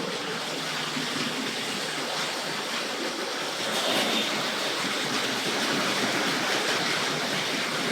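Hornby model steam locomotive, Bristol Castle, running on track, giving a dense steady rushing rumble that grows slightly louder midway, with no talking.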